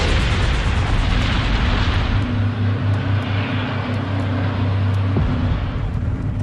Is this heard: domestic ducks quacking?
no